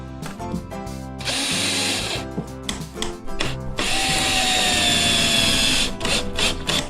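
A power screwdriver drives screws into wooden floorboards during a floor installation, whirring in short bursts and then two longer, loud, steady runs up close, with brief pauses between them.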